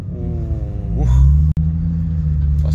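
A Nissan Skyline's engine rumbles loudly close by, then the revs swell as the car pulls away on an icy winter road, with a voice speaking briefly over it.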